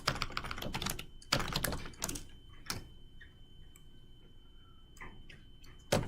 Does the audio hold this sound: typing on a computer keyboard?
yes